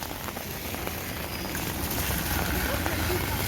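Steady rain pours on a cold winter morning in a village street, a dense even hiss of drops on wet surfaces that continues without pause.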